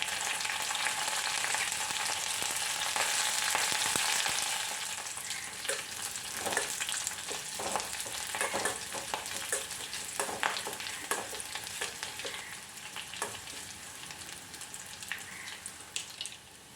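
Dried red chillies and curry leaves frying in hot oil for a beetroot kichadi tempering, a steady loud sizzle with scattered crackles and pops, easing somewhat after a few seconds but continuing to spit throughout.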